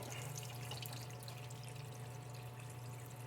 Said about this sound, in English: Use some air, compressed air with the solvent to blow clean